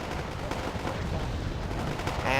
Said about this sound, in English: Open up on these guys with my mortars